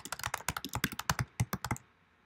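Quick, close clatter of a computer keyboard as nonsense numbers are typed in, about twenty crisp keystrokes in an uneven burst that stops abruptly, with no talking over it.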